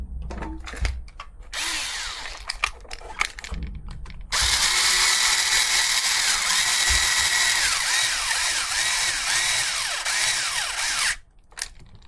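A brushed electric motor in a Schumacher Menace RC car runs noisily, a loud, steady high-pitched whirring and grinding that follows shorter revving bursts, then cuts off near the end.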